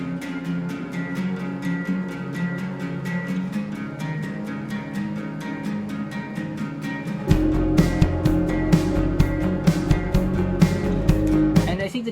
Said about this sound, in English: We added a lot of chorus in the sound of the acoustic guitar to make it sound big,